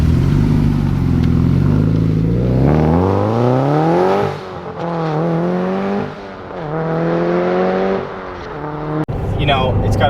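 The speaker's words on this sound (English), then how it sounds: "You know, it's got a really good turbo sound from that Blausch turbo." A built 400HP Subaru WRX STI with AFE equal length headers and an upgraded turbo revs hard, pitch climbing steeply then dropping and surging again, loud and close, with turbo whoosh and a person talking over it.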